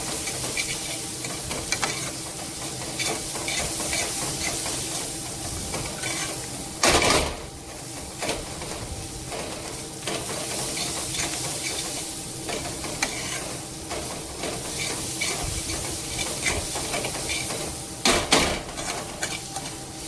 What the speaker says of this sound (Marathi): हे हिरवं वाटणही छान आपल्या कांद्यासोबत परतून घ्यायचंय